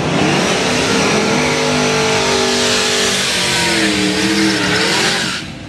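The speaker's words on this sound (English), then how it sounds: "I bet that's a stock motor with just open pipes and six on it" A snowmobile with a stock motor and open pipes screams loudly at close range, its engine note sweeping up and wavering at sustained high revs for several seconds before it briefly dips at the end.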